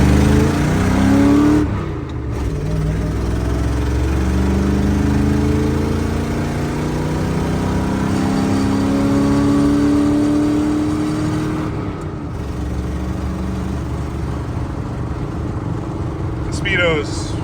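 Big block Chevy truck engine revs hard and drones steadily while driving on the road, loud and continuous with rising and falling pitch, briefly dipping as gears shift.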